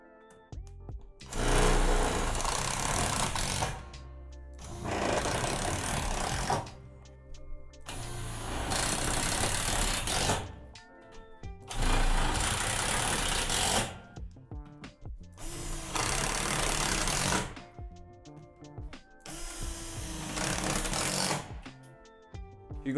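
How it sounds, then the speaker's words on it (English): A cordless drill on its highest torque setting bores through metal truss gussets of a Lifetime 10' x 8' outdoor storage shed, whining in six separate bursts of several seconds each with short pauses between them. "You will be drilling through the underlying metal, so make sure your drill is fully charged and on the highest torque setting."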